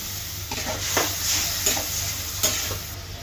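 Chopped tomatoes hit a spiced paste frying in a kadai, giving a continuous low sizzle broken by several spoon scrapes and stirs against the pan.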